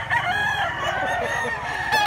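A nine-month-old rooster of Popeye Grey bloodline crossed with Kelso roundhead crows loudly and close by in one long, drawn-out call with a strained, raspy tone.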